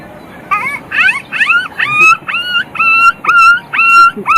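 A human voice imitates a puppy whimpering, giving a run of about eight high, rising whines in quick succession, close and fairly loud.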